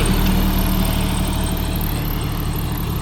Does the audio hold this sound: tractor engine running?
yes